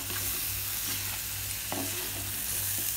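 Crab roast is stirred in a sizzling pan. A steady frying hiss runs throughout, with a few scraping strokes of the spoon close up.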